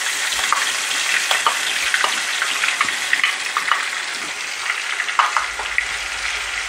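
Spice paste for Maharaja chicken frying in hot oil, a close, continuous sizzle with crackles and occasional scraping stirs throughout.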